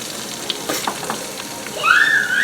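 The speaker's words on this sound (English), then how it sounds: "You have to constantly stir the roux." Flour and hot canola oil roux being stirred in a pot, a soft scraping stir followed by a rising sizzle near the end, heard up close without talk.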